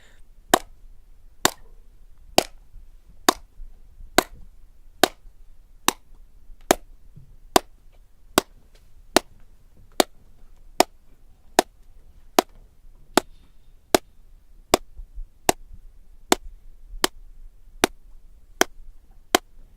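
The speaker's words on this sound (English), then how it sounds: "You can hear how the room deadens echoes by clapping constantly while closing the doors." Steady, evenly spaced hand claps, about one per second, ring out sharp and dry in a foam-lined, sound-deadened room, each with almost no echo, with no talk.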